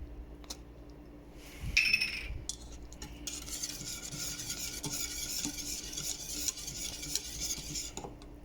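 A honey mixture foaming after baking soda goes in, stirred in a pot with a spoon: a clatter of utensil on metal, then a continuous soft fizzing hiss with gentle scraping, close and fairly quiet.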